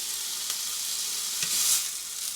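Chicken breast seasoned with thyme and pepper frying in a pan, a steady, even sizzle with faint clinks of stirring and no talk.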